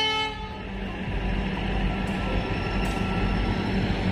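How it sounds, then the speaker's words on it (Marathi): A train horn sounds loudly at a railway station near Parbhani at the start, a sustained blare that fades within half a second. A broad, steady rumble of the train and station noise follows. "मालगाडी आलेली आहे तिकडे साईड त्याच्यामुळे ट्रेन थांबलेली होती"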